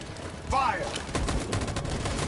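Rapid gunfire crackles in a burst of shots during a firefight in the video game Detroit: Become Human, sounding close over a low background.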